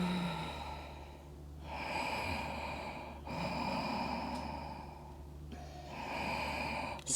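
Deep yoga breathing fills the space, with slow, close inhales and exhales in long, even cycles of about one and a half seconds each, heard alone without talk.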